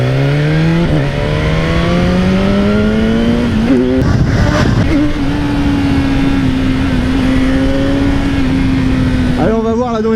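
A 2018 BMW S1000R motorcycle engine accelerating on the road: a close, loud rising whine climbs through several gear shifts, then settles into a steady high drone, with a voice talking over it.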